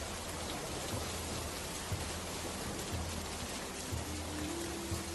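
Cartoon storm on a rainy night: steady, even rain hisses throughout with a soft low hum beneath it and no voices.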